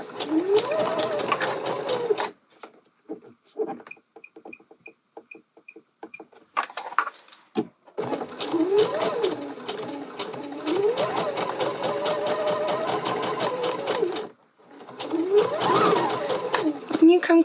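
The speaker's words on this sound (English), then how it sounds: "go ahead and sew in the round along that first fold" A sewing machine stitches bias tape in the round along its first fold on a garment armhole, running in close, loud bursts with brief pauses between them and a short quieter stop partway through.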